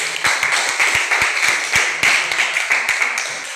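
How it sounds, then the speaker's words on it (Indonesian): A small group in a classroom claps for group 2, close and loud with distinct individual hand claps in a quick uneven rhythm, sounding like only a handful of people. "Oke, tepuk tangan kepada kelompok 2 dulu."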